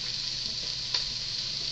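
An onion fries in a pan for aloo gobi, a steady, even hiss of sizzling oil with a single faint tick partway through and no voices.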